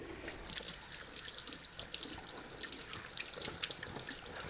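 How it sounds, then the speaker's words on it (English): Hands being washed under a running tap at a kitchen sink while making sourdough bread, a steady close splashing flow with small irregular splatters as the hands move, quiet and with no speech. "I'm just gonna wash my hand real quick."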